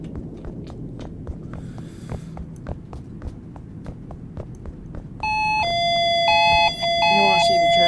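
Footsteps thud steadily at first, then a fire alarm fitted on a shop door suddenly sounds: a loud, close electronic tone pattern that repeats for the last few seconds and drowns out the other noises.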